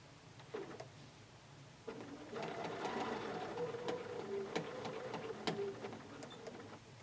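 A sewing machine stitches the final quilting line on a block, a fast, steady mechanical whir with rapid needle ticks that starts after a brief pause and runs on quietly up close.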